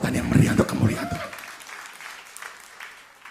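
A church congregation at a New Year's Eve service claps briefly and enthusiastically, the applause rising over a voice at first and then fading out quickly.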